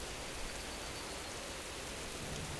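Steady rain in the World of Warcraft game world, a dense, even hiss of falling water that stays constant and fairly loud throughout, with no voices over it.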